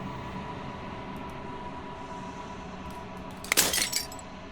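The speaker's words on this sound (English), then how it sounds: "As the final fragment of glass shatters" Glass shatters in the video game Slay the Princess: a brief, bright burst of breaking and tinkling fragments rises over a low ambient hum, then fades quickly.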